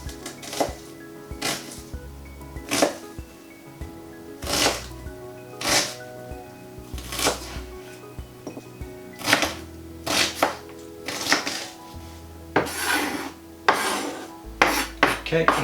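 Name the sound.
roughly chopping peeled onions with a knife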